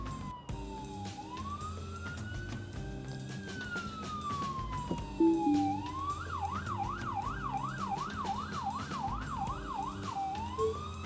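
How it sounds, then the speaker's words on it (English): An ambulance siren wails nearby in South Vancouver, sweeping up and down slowly before switching to a rapid warbling yelp, heard over the hum of a moving car. "There's an ambulance."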